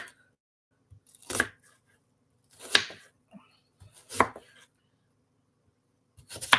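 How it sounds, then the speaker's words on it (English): Onion being chopped with a knife on a cutting board in a home kitchen, heard as several separate bursts of sharp blade-on-board knocks with quiet gaps between, close and fairly loud. "So basically, I just start chopping at it everywhere, different directions, so I get it broke down."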